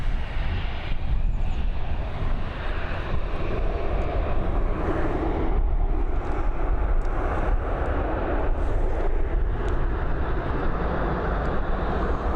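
An airplane landing at Dublin Airport gives off a steady, loud, broadband engine roar that lasts throughout and has no talking over it.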